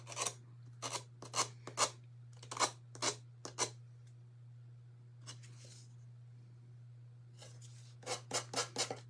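Hand sanding of a small craft piece: short rasping strokes come in quick clusters, pause, then return in a rapid run of four or five near, clear strokes over a steady low electrical hum.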